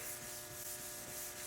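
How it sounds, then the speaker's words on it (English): Continuous hand sanding on a car's clear coat, a steady close-up rubbing scrape of abrasive paper with a gentle back-and-forth rhythm. "I use my palm as a long sort of sanding board"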